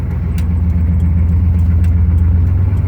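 Chevy 6.5 turbo diesel with a DB2831-4911 injection pump surging, heard from inside as a loud, steady low engine rumble while driving, with faint ticks above and no talking.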